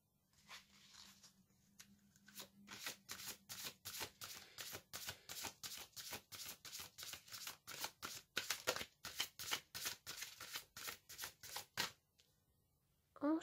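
Cards for a tarot-style reading are shuffled and drawn close by, a long run of quick, regular flicking riffles and soft slaps, quiet overall, ending with a brief rustle.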